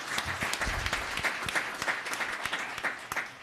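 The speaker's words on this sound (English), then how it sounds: "one more round of applause" Applause fills a city commission meeting chamber, a moderate round of clapping with distinct individual claps standing out in a loose rhythm, sustained without speech.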